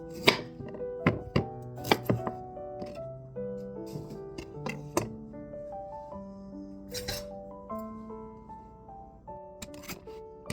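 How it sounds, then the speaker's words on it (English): A knife chops vegetables, carrots among them, on a cutting board in a home kitchen, making quick irregular taps and thuds up close, with clinks and faint tonal background music underneath. "I need to cut the vegetables."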